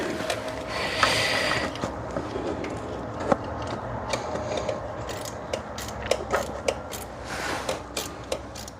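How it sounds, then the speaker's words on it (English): Ratchet working a stubborn bolt on the 3.3L starter of a Hyundai Santa Fe, close up: a run of quick metallic clicks in short bursts, getting busier toward the end, with bits of handling noise between strokes. "try to get this bolt off all the way now"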